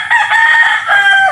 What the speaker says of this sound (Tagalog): Yan ang aking mga panabong